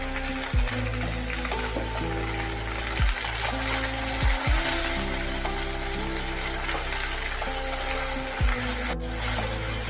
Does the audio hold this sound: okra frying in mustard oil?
yes